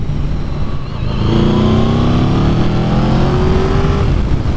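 A Yamaha VMAX 1700 motorcycle pulls hard through second gear, its engine note climbing steadily and loudly over several seconds with strong wind rush, no voices present.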